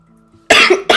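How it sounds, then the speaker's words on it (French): A woman coughs, two sharp, loud bursts close to the microphone, the first longer and rougher, following a brief quiet pause. "Excusez-moi, je tousse."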